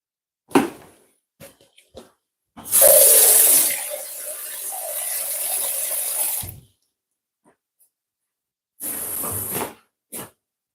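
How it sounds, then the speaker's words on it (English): Water poured into a marinade in a kitchen, a few seconds of splashing pour with short clinks and handling noises around it, then a brief second pour near the end. "I'm going to add a bit of water to that."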